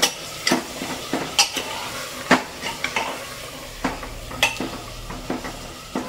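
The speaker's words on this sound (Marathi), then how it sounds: "जे आपण फोडणी दिलं त्यामध्ये चांगलं मटण मिक्स करायचं" Mutton being stirred and fried in hot oil tempering, with repeated scraping and clanking of a utensil against the pan over a soft sizzle, close and without talk.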